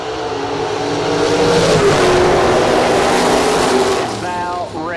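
Chevrolet Camaro drag car roaring loudly down the strip at a drag race meet, a sustained engine blare swelling and holding before another engine note rises in rapid revving steps near the end; a commentator talks over it.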